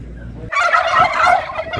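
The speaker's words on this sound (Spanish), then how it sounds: "Toda una parvada de guajolotes" A flock of turkeys gobbles loudly and close by at a livestock market in Puebla, a burst of overlapping rattling gobbles that breaks in after a low rumble and carries on steadily without talk.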